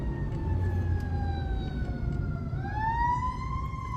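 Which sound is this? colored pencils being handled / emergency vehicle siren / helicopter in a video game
emergency vehicle siren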